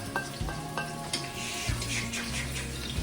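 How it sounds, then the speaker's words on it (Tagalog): Garlic and onion sautéing in a pan, a lively close sizzle punctuated by repeated spatula stirs and scrapes, moderately loud and free of talk. "First thing na ito yung isigigisa natin yung ating bawang."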